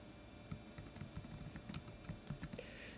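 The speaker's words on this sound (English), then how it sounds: "I'm hitting the tab that's on my keyboard" Typing on an iPad keyboard while working in Word: a steady run of soft, close keystrokes tapping at an even rhythm, alone with no voices.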